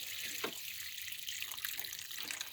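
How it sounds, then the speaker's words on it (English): Water pouring steadily onto a potted plant, a continuous soft splashing and trickling stream heard close and alone. "So if you water the plant"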